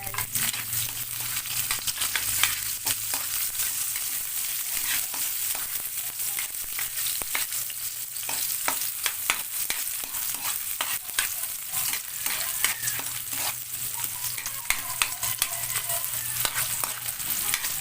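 Onions frying and being stirred in a pan for pancit bihon, a steady close sizzle running throughout with frequent scraping stirs and small clatters, no voices.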